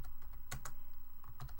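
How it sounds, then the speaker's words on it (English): Rapid keystrokes on a computer keyboard during a typing lesson, with a steady run of close, crisp clicks and a few louder key strikes, and no talking. "Did you see how I kept typing?"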